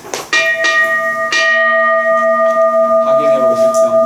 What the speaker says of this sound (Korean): 종소리 들으면서